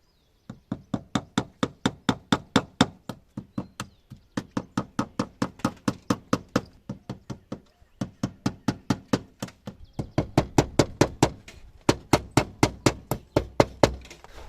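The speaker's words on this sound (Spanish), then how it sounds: "vamos a clavar para fijarlo y listo" Nails hammered to fix wire mesh to a wooden post, a long run of sharp, evenly spaced close knocks in several bursts separated by short pauses, with no voices.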